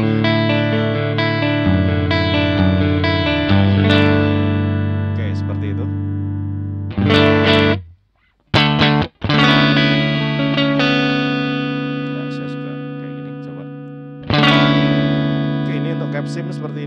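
Electric guitar through a Primer stompbox distortion pedal, thick sustained distorted chords ringing out loudly, a short break of near silence with a brief burst, then more held chords.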